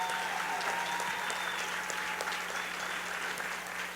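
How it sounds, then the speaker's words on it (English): Steady applause from an audience at the Hispanicize event in Miami, a soft, continuous patter of many hands heard from some distance, without voices on top. "I want to give them an enthusiastic, heartfelt applause."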